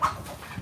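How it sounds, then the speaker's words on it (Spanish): Chickens squabble at a distance, giving a brief burst of clucking and squawking over faint outdoor background noise. "ahora empezaron a estar las gallinas por allá, a estar peleando"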